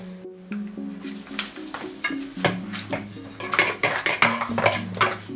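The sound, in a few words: mashing potatoes with garlic and cumin in a pot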